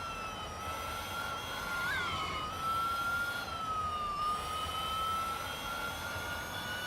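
In the Real Racing 3 video game, an electric race car gives off a high, vacuum-cleaner-like whine that holds steady, bends slightly in pitch and sits over a broad, even rushing noise.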